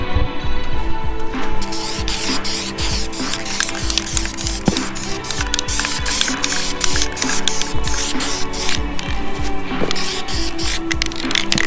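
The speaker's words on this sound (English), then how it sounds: "we're going to put clear coat on Dylan's cam covers." A spray gun lays clear coat onto pink glittered Toyota 4AGE engine cam covers, a loud steady hiss running nearly unbroken and close up with brief pauses and faint rubbing.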